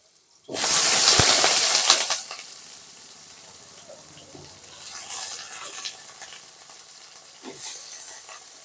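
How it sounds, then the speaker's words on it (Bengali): Potatoes for aloo posto drop into hot oil in a pan with a loud, bursting hiss lasting about a second and a half, then settle into a softer, steady sizzle with occasional stirring swells, close by and without speech. "এবার আলুটাকে ভেতর দিয়ে হালকা করে ভেজে নেব"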